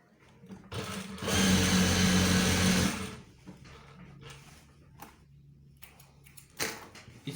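A sewing machine stitches an added pocket piece on a pair of trousers in one loud, fast two-second burst, followed by quieter handling noises and a short knock.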